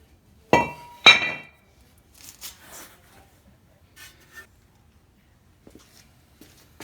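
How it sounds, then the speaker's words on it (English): A brake rotor slides off the front wheel hub of a Mitsubishi with two loud, close metallic clinks near the start, followed by softer scattered taps and rattles. "We'll go ahead and slip the rotor off."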